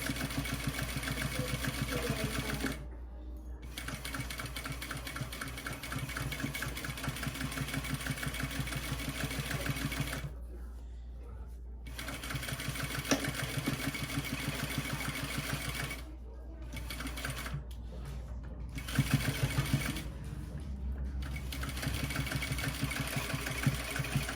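Sewing machine running a normal 2.5 stitch length along the seam allowance of a foam layer for bra cups, a steady mechanical hum in long runs broken by several short stops.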